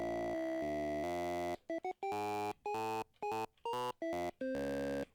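Electronic looped sample tones from an Octatrack Mk2 jumping between pitches, steady sustained notes at first, then choppy stuttering bursts with short gaps, synthetic and clean.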